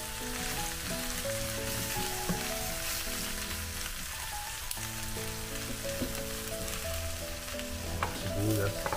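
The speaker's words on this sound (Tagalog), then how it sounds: "Lagay na natin yung sibuyas. Bawang." Onion and garlic hitting hot oil in a Saladmaster skillet while pork leg humba is cooked at home, a loud, dense, continuous sizzle up close with occasional stirring scrapes and faint tonal background sounds.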